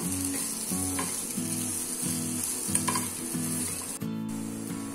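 Masala worked into cooked wheat flour dough in a hot pan, a steady sizzle under a regular back-and-forth scraping rhythm of a spatula, close and fairly loud, ending with a sharp clatter, no speech.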